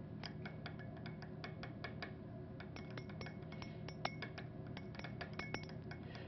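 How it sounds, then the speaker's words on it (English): A utensil stirs sodium acetate crystals into a solution in a glass container. Faint, rapid clinks and taps repeat steadily against the glass with no talking. "if I put a few crystals into this one, and we stir a little bit"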